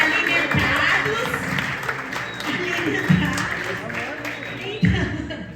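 Church congregation applauding during a Wednesday evening worship service, a steady wash of clapping with scattered cheers and low voices that swells in brief bursts, filling the room throughout.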